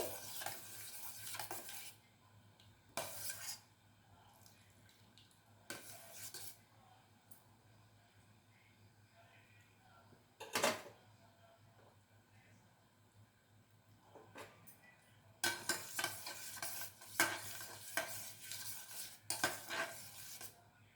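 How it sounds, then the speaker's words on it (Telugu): Spoon or spatula stirring and scraping food around a pan for a homemade dish, in intermittent bursts of scraping and clinking with quieter pauses between, close and moderately loud, no voices. "కొంచెము ఇలా కలుపుకోవాలి."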